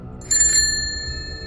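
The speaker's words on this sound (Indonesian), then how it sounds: "suara lonceng itu terdengar lagi." A single sharp metallic bell ring, like a bicycle bell, strikes once and lingers with a bright fading tone over a low background rumble, in a village at the foot of a mountain.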